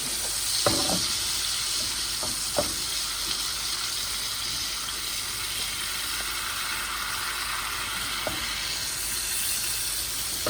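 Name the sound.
Brussels sprouts sizzling in a pan on the fire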